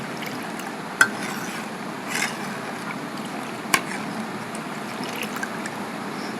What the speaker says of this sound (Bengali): এই যে সেই ফেটানো দই দিয়ে দিয়েছি, দিয়ে এরকম করে নাড়িয়ে ছেড়ে দুধের সাথে মিশিয়ে নিতে হবে।